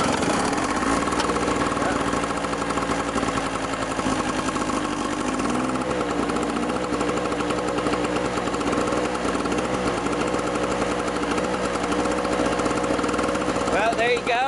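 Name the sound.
gas hedge trimmer cutting weeds, powered by small generator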